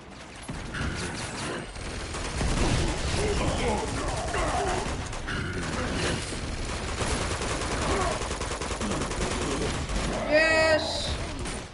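Sustained automatic gunfire in Uncharted 2 rattles in dense overlapping bursts with mechanical clatter, loud throughout and mixed with voices speaking.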